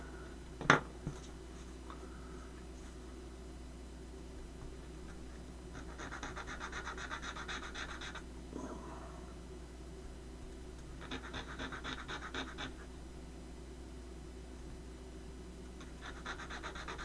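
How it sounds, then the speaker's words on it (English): Sandpaper scuffing the back of a puzzle piece for a London tour bus model, heard as three separate soft, raspy rubbing passes of about two seconds each over a faint hum, after a brief sharp tap. "Sandpaper time."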